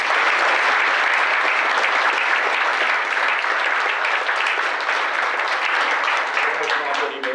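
Sustained, loud audience applause fills a Veterans Day ceremony in Fort Walton Beach, Florida, steady throughout before thinning slightly at the end.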